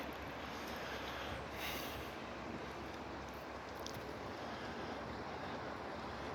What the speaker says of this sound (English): As we're hearing tractor trailers go over the top of this thing.